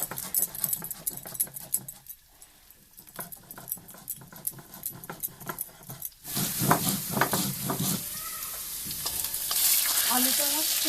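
Potatoes fry in a pan while being stirred, with scraping and clinking strokes at first, then a loud, continuous sizzle swelling in the second half, close up and without talk.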